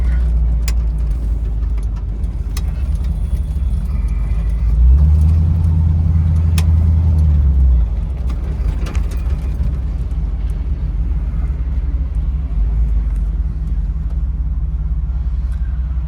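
A 1968 Ford Bronco with a restored 5.0 engine drives along, a steady loud low engine rumble and road noise throughout, with a brief deeper droning swell in the middle.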